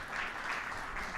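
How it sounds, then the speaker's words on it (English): Audience applause at a cryptocurrency conference, a steady, moderate wash of clapping from a seated crowd sustained without a break and with no one speaking over it. "let's give him a round of applause and welcome"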